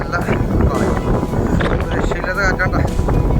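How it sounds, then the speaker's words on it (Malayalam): Strong wind sweeping the hilltop at Ilavizha Poonchira in Kottayam, buffeting the microphone in loud, continuous rumbling gusts while people talk throughout. "രക്ഷയില്ലാത്ത കാറ്റാണ്ട, ഇതിലും കാറ്റ്."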